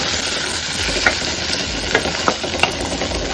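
Boiled whole green gram sundal being fried and stirred in a pan, a loud continuous sizzle close by, punctuated by several sharp spatula clicks against the pan.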